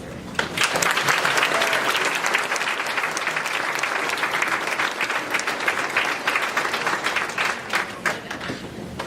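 Sustained, dense audience applause at a school awards night, many hands clapping steadily and loudly for about nine seconds, with faint voices underneath.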